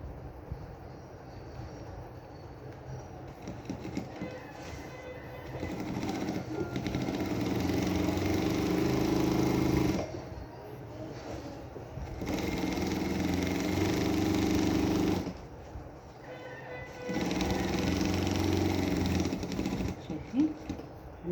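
A sewing machine stitches a leather jacket in several bursts of steady mechanical whirring, each a few seconds long, with short pauses between them. Someone speaks quietly in between.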